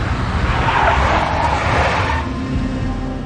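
A big black Mercedes skidding in the 2001 game Max Payne: a loud, close tire squeal over a low engine roar, lasting a few seconds before fading out.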